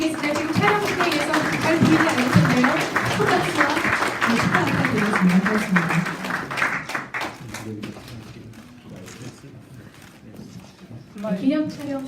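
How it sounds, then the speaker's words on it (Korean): Audience applause at an award ceremony for a world peace prize in a guest room of the National Assembly building, a steady wash of clapping mixed with talk and crowd chatter, easing partway and swelling again at the end. "여러분 다시 한번 두 분께 큰 박수 부탁드립니다"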